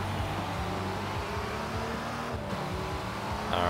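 A MINI JCW buggy's engine revs up and down in quick rising and falling sweeps. It is fairly close and steady, with no one talking.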